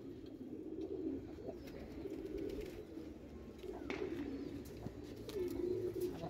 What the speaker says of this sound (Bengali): খুব পুরাতন লাইনের একটা জিরাগলা কবুতর।